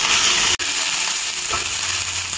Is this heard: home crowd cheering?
no